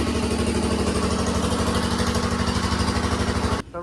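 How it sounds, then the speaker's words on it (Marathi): A steady mechanical drone of a machine blowing air through a pickup truck's interior during cleaning runs continuously at close range, cutting off abruptly near the end. "आता मशीनला हवा मारतोय"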